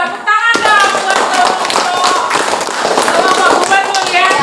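An audience applauds a group presentation in a classroom-like room, a quick rush of many hands starting abruptly and continuing loud and close, mixed with chatter and cheering voices.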